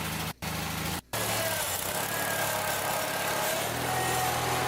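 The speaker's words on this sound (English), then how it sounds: "My little tractor. She's a champ." A small tractor engine runs steadily close by, with a continuous mid-pitched drone through a winter ice storm. Two brief dropouts break the sound near the start.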